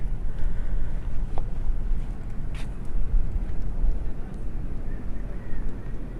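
Steady rushing wind in rain buffeting the microphone, a constant low roar with gusts throughout and no other distinct sounds.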